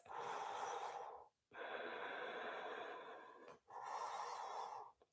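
During a warrior three yoga pose, slow deep breaths through the nose come close and quiet, three long airy exhale-like rushes separated by brief pauses.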